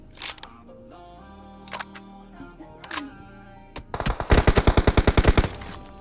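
Automatic gunfire in PUBG Mobile (KR version), a rapid burst of about a dozen loud, evenly spaced shots near the end, preceded by a few isolated sharp game sounds and softer background effects.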